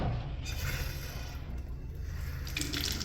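A faucet with its aerator removed runs steadily with an unbroken, fairly quiet gush of water and no voices.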